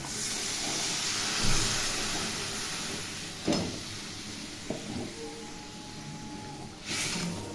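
Ground mustard paste and water poured over frying fish in a pan, a broad steady hiss and sizzle with a few louder bursts and clatters spaced across it, no voices.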